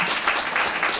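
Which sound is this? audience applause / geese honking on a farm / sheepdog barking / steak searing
audience applause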